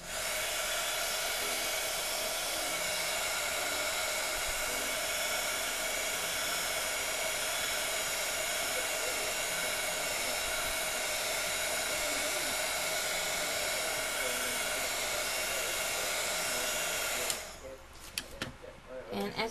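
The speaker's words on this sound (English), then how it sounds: "I'm going to heat set it." A heat tool drying Glimmer Mist paint gives off a steady, continuous blowing whir at close range, holding level for most of the span before cutting off into brief clattering handling sounds near the end.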